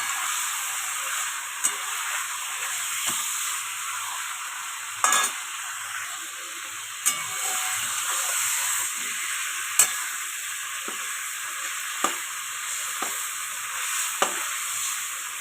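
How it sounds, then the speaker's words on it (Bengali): Chicken pieces fry in a steady, close hiss of hot oil for chicken biryani, while a spoon scrapes and stirs through the pan in sharp, irregular clicks. "দেখছো আমি নাড়াচাড়া করে নেব"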